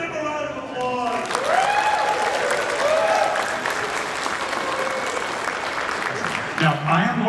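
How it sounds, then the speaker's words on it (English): A crowd at a charity auction claps steadily for about seven seconds, loud and continuous, with a few voices mixed into the applause. "give him a round of applause"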